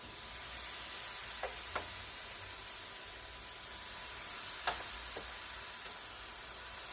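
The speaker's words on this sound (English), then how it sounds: "Okay, we're going to put the chicken on the grill. Hope y'all hear that little sizzle." A steady, broad sizzle of thin-cut chicken breast cooking on a hot grill, quiet and continuous, with a few faint clicks and scrapes.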